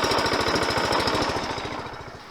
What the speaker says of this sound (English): See, this Briggs engine is quite good.